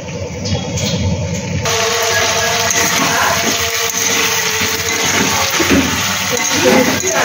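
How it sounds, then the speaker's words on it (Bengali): Chicken broth is poured into a spice mix frying in a pan, a steady loud rushing, sizzling wash of liquid that starts abruptly and continues without pause, with faint kitchen clatter beneath. "এখন এই মশলাটা কষাই, আর এর মধ্যে দিয়ে দেবো চিকেনের ঝোলটা"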